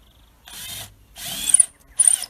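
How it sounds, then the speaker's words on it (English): A battery drill bores into birch wood in three separate bursts, whirring loudly through each one with brief pauses between them. "I'm going to get you to drill some holes for me with a battery drill"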